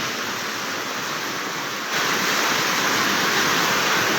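A strong flood current rushes through Bonbon, Libon, Albay, a dense, continuous roar with no break, loud and close throughout.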